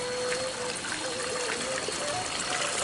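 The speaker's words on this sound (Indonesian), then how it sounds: "Cuman sayang, sahabat ya, hujannya nggak besar," Light drizzle falling on a hillside near Bukit Pesawahan, a steady soft hiss with faint trickling water throughout, even and continuous at moderate distance.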